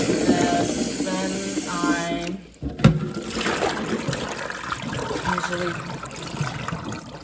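Running tap water gushes over boiled eggs in a kitchen sink, a steady rushing splash with a brief clunk and pause partway, then a continued spattering flow, close and moderately loud.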